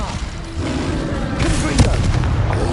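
Casting the Incendio fire spell in Hogwarts Legacy brings a loud, whooshing roar of flame, with a sharp crack about two-thirds through and a dense, rumbling burst that carries on to the end.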